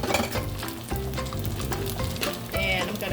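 Shrimp tossed into a pot of cooked pad Thai noodles sizzle and fry while being stirred, a steady close crackle with scraping movements and louder bursts as the food is turned.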